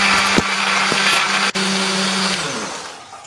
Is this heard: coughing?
no